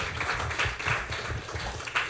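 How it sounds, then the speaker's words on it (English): An audience claps for Mark at a Baldwinsville girls lacrosse gathering at Pizza Man, a modest, continuous patter of applause heard from a short distance. "can we clap it up for Mark?"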